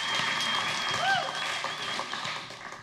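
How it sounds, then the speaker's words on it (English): A short burst of audience applause on a comedy talk show, moderately loud and close, with a brief tonal chirp rising over the clapping before it thins out. "Round of applause."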